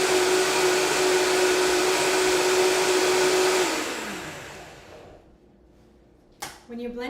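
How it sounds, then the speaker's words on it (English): A blender grinding nuts runs loud and steady with a constant motor whine, then winds down and stops, leaving near silence before a brief clatter and rattle of loose nut pieces near the end. "When you're blending nuts and you turn off the blender, you can actually listen to hear the nuts if they're all blended."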